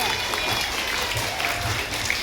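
Students clap at a school campus zero-waste inauguration event, a steady moderate round of applause with voices talking over it.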